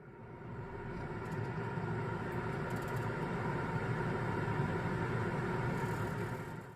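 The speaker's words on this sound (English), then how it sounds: "Yeah, it's noisy, but you can't really expect an air conditioning unit to be quiet." An air conditioning unit in a skoolie bus runs with a steady low droning hum and airflow noise, fading in and holding at a constant level, with no talk.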